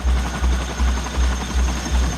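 A US CH-47 twin-rotor helicopter in flight gives a loud, regular low rotor thump, about three beats per second, over a broad engine and turbine roar, heard without speech.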